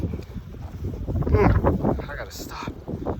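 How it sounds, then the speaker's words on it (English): Strong gusts of blizzard wind buffet a microphone during a winter storm in Buffalo, a loud continuous rumbling roar that swells and subsides under a person's heavy breathing and short exclamations. "Wind gusts are going up to 70 miles an hour out here."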